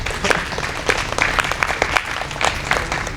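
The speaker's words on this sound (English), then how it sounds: "please give another round of applause to our speakers and also actually to yourself for joining our session" Audience applause closing a conference session on the abandonment of rural and urban landscapes, a steady patter of many hands clapping at moderate level with no voices over it.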